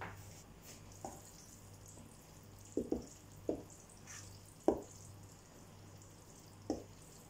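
Spoon stirring salt into vattayappam batter in a bowl, a series of soft, irregular wet taps and scrapes spaced a second or so apart over a quiet kitchen hum.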